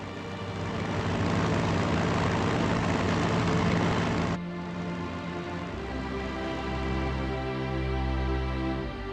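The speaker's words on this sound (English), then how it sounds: "Bomber squadron ready for duty." Propeller bombers of an RAF squadron drone steadily in the Strategic Mind strategy game, a dense, loud engine roar that drops abruptly midway to a lower, steadier idling hum, with no voices.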